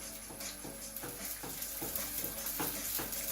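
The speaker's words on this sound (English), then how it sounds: "You don't want to fry it too long because you don't want all the oil to absorb" Pizza fritta dough frying in hot oil, a dense crackling sizzle with bursts of bubbling and a few stirring or scraping touches, close and continuous with no voice.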